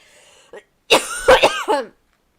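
Several harsh throat bursts close to the mic: a brief rasp, then a louder run of three or four rough coughs, with little else around them.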